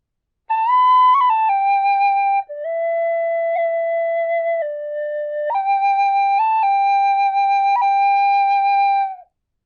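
Tin whistle plays a fast phrase from the Braveheart theme, bright sustained notes stepping up and down with quick ornamented turns, loud and alone for about nine seconds.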